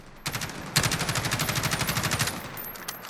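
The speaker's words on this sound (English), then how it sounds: "we're tap firing that full auto to give it that burst feature without the delay" A fully automatic HK433 battle rifle tap-fired in Call of Duty Modern Warfare: a short opening shot, then a loud, rapid, even rattle of repeated gunshots for about a second and a half, followed by a few scattered trailing shots.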